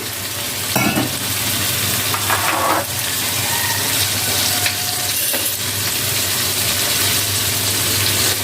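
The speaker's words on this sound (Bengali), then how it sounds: "অল্প করে পানি দিয়ে দিলাম" Steady loud sizzling of bottle gourd and chicken curry frying in a pan, with a few splashy bursts as a little water is poured in and stirred, continuing without speech.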